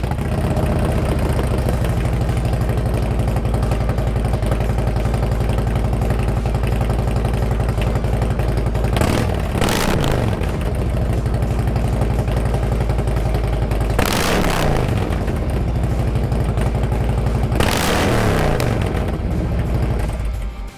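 A Harley twin cam motorcycle fitted with a TAB 2-into-2 header, 4.5-inch BAM stick exhausts, Zombie Baffles and slash-cut tips idles with a loud, lumpy rumble close up, broken by three sharp throttle blips that rev up and fall back.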